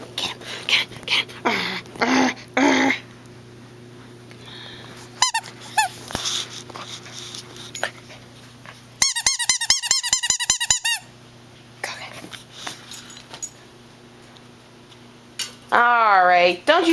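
A dog fights with a squeaky shark toy indoors, loud repeated squeaks in short bursts and one long rapid run of squeaking, with scuffling and a person talking in between.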